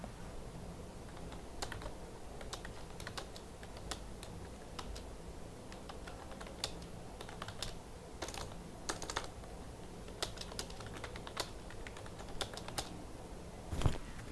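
Keys clatter on a computer keyboard while text is entered in InPage, an Urdu word-processing program, producing irregular bursts of close, crisp clicks over a quiet room hiss, with a louder keystroke near the end.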